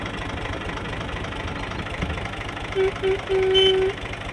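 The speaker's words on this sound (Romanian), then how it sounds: "L-am pus pe Victor Șef pe tractor acum" A tractor engine runs at idle with a steady low rumble and faint knocking throughout, with a few short tonal sounds near the end.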